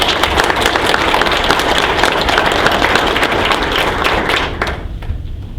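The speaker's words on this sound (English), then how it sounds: "a round of applause for leadership givers" A community charity recognition event erupts in steady audience applause for leadership donors, brisk and close clapping that rolls on for about five seconds before thinning out at the end.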